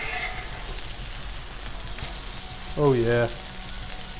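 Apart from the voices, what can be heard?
bacon sizzling on a Blackstone griddle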